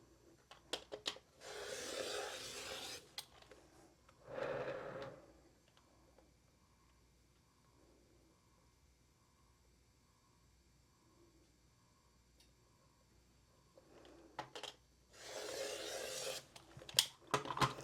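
Scissors cut quilt fabric along marked lines in several rasping bursts, with long quiet gaps and faint ticking between the first cuts and the final pair.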